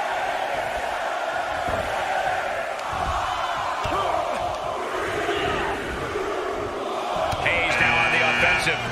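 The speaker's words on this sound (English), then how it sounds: "Listen to this crowd count the next one in." Wrestling arena crowd at a WWE Royal Rumble match, a dense sustained roar of many voices that swells toward the end, with a commentator talking over it.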